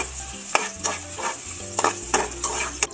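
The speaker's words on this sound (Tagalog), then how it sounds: "Nagba-brown-brown na po ang ating luya. Pwede na po natin lagay yung sibuyas." Ginger and onion sauté in a hot pan for pork kare-kare, a loud steady sizzle broken by repeated sharp scrapes and clicks of a spatula stirring against the pan.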